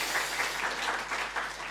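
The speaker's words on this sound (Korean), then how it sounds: "우리 김승원 선교사님께 우리 감사의 박수로 올려드려보겠습니다" A church congregation applauds a missionary after a sermon, a short burst of steady clapping heard from the room.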